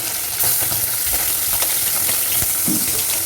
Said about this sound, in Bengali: চিংড়ি মাছগুলো পাশে দিয়ে দিলাম, ভাজা হয়ে যাবে